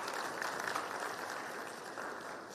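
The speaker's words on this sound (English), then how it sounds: "we owe a huge round of applause for our tech people" Steady audience applause fills a fireside chat anniversary celebration for SSEI, a dense, even wash of many hands clapping together for its whole length, moderately distant and without speech.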